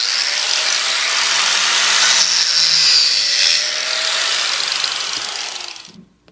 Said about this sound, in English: it looks like this is going to be a good job for my angle grinder with a cutoff disc.